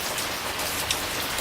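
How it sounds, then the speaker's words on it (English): Steady rain falls on a surface during a rainy summer day near a roof gutter, a continuous hiss of droplets with no talking over it. "See, rain's already starting to go away"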